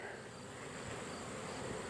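Many bees swarm in the evening outside a hive that is being robbed, making a dense, unbroken buzzing drone that stays steady and close.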